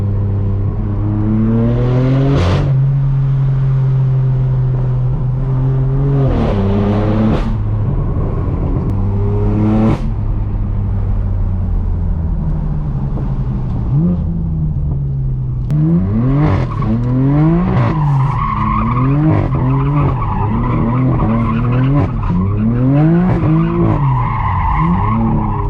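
A loud straight-piped BMW M4 F82 exhaust rises and falls as it accelerates hard and shifts through canyon roads, with tire squeal in between, close and sustained.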